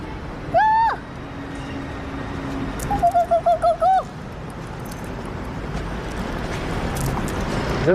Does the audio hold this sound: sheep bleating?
no